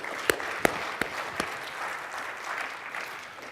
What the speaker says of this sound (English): So can I get a small golf clap for ORTC?